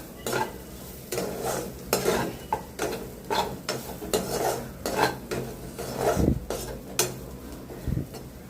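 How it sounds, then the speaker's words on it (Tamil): A spoon stirs chili powder into a taro curry in a pan, making repeated close scraping and clinking strokes over a steady sizzle, with no talking. "மிளகாத்தூள் சேர்த்து கிளறி விட்டுடலாங்க"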